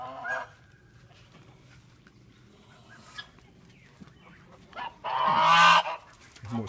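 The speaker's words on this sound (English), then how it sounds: "Geese wandering into the pea barn." Geese honk in a loud burst near the end, with a few softer calls earlier over a low background rumble, as they wander into a pea barn.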